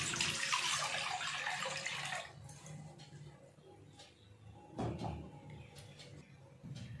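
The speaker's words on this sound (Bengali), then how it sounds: "কড়াতে জল দিয়ে দেব।" Water pours from a tap into a cooking pan set on a gas stove, with a rushing splash for about two seconds that then fades. Quieter clatters and knocks of kitchen handling follow.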